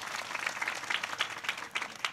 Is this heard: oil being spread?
no